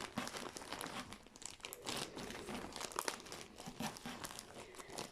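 Plastic packaging around balls of yarn crinkles and crackles continuously at close range, in dense irregular bursts with no talking.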